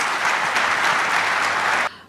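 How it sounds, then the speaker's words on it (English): A conference audience bursts into loud, dense applause for guest speakers, a continuous close wash of clapping that cuts off abruptly near the end. "A big round of applause for our guests."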